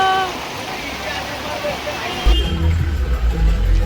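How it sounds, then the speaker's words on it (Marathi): A steady wash of heavy rain hisses throughout at Bhimashankar, voices talking over it, with a deep rumbling roar swelling in the second half. "चला चला खूप पाऊस आलाय"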